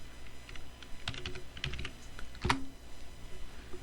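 Computer keyboard typing in scattered bursts of keystrokes, a sharp louder clack near the middle, close and clear against a quiet room with no one speaking.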